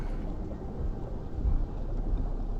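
Steady rain and low rolling thunder in the dinosaur survival game Path of Titans, a continuous broadband wash with deep rumbles swelling underneath, no talking.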